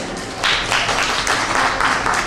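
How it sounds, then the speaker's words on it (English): A room full of people gives a group a round of applause, a loud, dense and continuous wash of many overlapping claps that holds steady with no talking above it. "a round of applause for that group"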